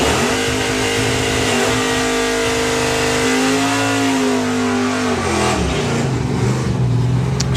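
John Bean's Mustang drag racing car revs hard at a drag strip, its engine note climbing and sliding in pitch through several loud, sustained pulls.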